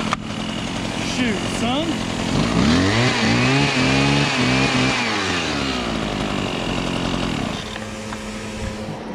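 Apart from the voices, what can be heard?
Husqvarna chainsaw running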